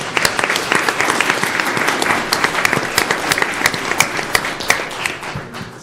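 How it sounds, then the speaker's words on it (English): A school district governing board meeting crowd gives Levine Elementary students a round of applause, many hands clapping with distinct sharp claps standing out from the dense, steady clatter. "Let's give Levine Elementary another round of applause"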